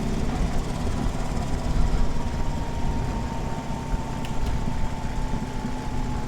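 Vehicle engine driving at about 30 miles per hour along a dirt road in rural Alabama, a loud, steady low rumble with road noise throughout and no talk.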